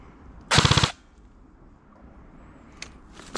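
A CYMA CM.009F XM177 E2 airsoft rifle fires a short full-auto burst of about six rapid shots, loud and close, followed by quiet with a couple of faint clicks.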